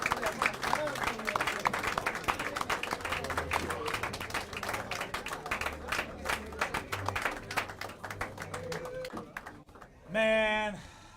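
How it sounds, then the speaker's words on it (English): Crowd clapping at a sheriff's office graduation ceremony, a dense ongoing patter of many hands with cheers and a voice mixed in, ending with someone speaking clearly. "He's clapping for everybody."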